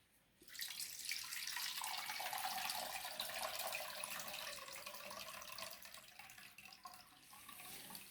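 Horse gram is rinsed under a running tap, a quiet but steady gush of water that starts suddenly and flows continuously with slight splashy variations.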